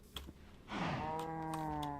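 A single cow moo in Minecraft, a long drawn-out low call, clear and close, following a few faint clicks like keyboard typing.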